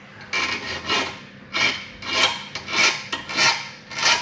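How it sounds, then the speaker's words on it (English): A hand file rasps across a drill bit in repeated strokes, about eight uneven scrapes in a few seconds, close and clear with no voices. "going to do his best to file it up a bit"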